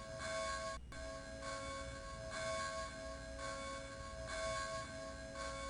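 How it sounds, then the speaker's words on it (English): Church bells ring in the Silent Hill Play Novel video game, tolling in slow, regular swells of sustained, resonant tones that rise and fade about every second and a half, fairly quiet and without speech. "From the loud sound of the church bells, that seems to call out to me."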